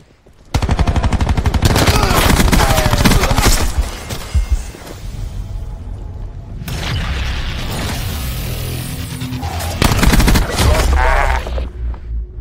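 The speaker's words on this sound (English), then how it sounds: "Spitfire. That is the best SMG in the game, close range." A Spitfire SMG in Black Ops 4 fires loud, rapid automatic bursts close up, a long burst, then a pause with mechanical clicks and movement, followed by more firing, with a player talking briefly between bursts.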